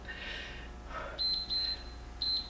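A workout interval timer in a BOSU strength session gives short, clear electronic beeps, three in quick succession and then one more, over quiet room tone.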